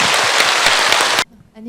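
Audience clapping in encouragement at a Buddhist Q&A talk, a loud dense burst of applause that cuts off abruptly near the end, leaving near silence.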